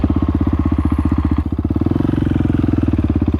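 A KTM 701 motorcycle with close to 32,000 kilometres on it runs steadily at idle, its single-cylinder thump forming a fast, even pulse that shifts slightly in pitch partway through. The engine is loud and close, with no voices.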